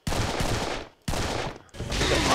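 Rapid automatic gunfire from the Serious Sam 3 shooter campaign, three loud sustained bursts separated by two short breaks, close and dominant with no talking.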